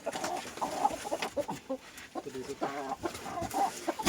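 Rooster clucking and calling near a farmyard, a series of short, uneven bird vocalizations close by, with faint background noise and some human voice in the mix.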